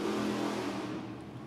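Monster truck engine revs loud and close at a Monster Jam arena show in Lincoln, Nebraska, a steady heavy roar with a low rumbling drone that eases slightly toward the end.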